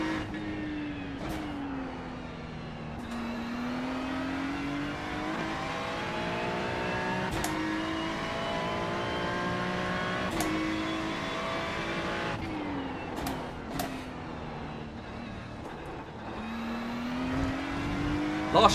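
A Ferrari GT3 race car engine in a racing video game holds a steady, loud, high-revving drone, its pitch rising and falling as the car shifts and accelerates, with a few brief sharp spikes along the way.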